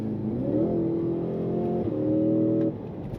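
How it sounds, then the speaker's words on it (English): A supercharged V8 in a 2026 Cadillac CT5-V Blackwing with automatic transmission accelerates hard, its engine note climbing through two rising pulls with a gear change between, loud and close from inside the car. "Gosh, and that supercharged V8 is a monster on power."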